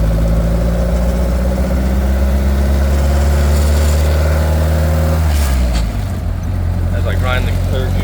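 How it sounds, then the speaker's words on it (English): A 1928 Ford Model A race car with a four-port overhead valve head conversion drives a closed circuit with a loud, steady engine drone. The drone drops away abruptly as third gear grinds, followed by a brief rattle and the engine running on. "As I grind the third gear again for the second time."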